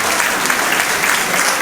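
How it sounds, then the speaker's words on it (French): Sustained audience applause fills the whole stretch at a floral show evening hosted by a flower club in the Ardennes, a steady dense wash of many hands clapping with no pause. "j'appelle, sous vos applaudissements, Jean-Michel Lebeau"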